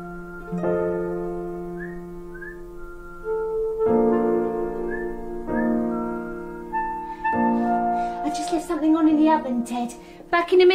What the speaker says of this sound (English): you mustn't whistle so loud.